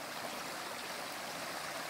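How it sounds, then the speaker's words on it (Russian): A large spring bursts from the ground like an underground river, producing a steady, dense rush of flowing water with no pauses and no voices. "меня поражает, какое огромное количество воды бьет из-под земли"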